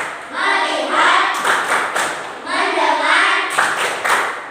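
Children in a group perform a rhythmic 'tepuk fokus' clapping chant, their voices chanting in unison while clusters of hand claps and thumps punctuate the phrases at regular intervals.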